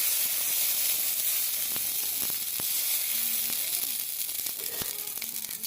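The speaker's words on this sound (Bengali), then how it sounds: "কড়াইটা গরম হয়ে গেছে, সর্ষের তেল দিচ্ছি" Mustard oil hissing and sizzling steadily in a hot wok, with a few sharp crackles and light metallic taps, close by.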